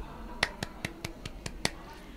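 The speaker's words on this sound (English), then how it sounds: "Seven claps, I think that was." Seven sharp, evenly spaced hand claps ring out in quick succession, crisp and fairly close in a quiet room.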